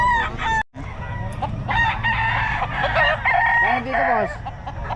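A Boston Hen gamefowl rooster crows loudly and close by in several drawn-out calls, with clucking and other fowl sounds from a farm around it, while people talk in the background.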